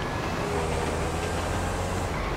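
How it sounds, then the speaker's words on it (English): Train in GTA Online rumbling along steadily, a dense continuous roar of rolling wheels and car noise at constant loudness, no voices. "I'm getting on the train."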